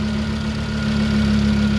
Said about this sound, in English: Turn off the engine.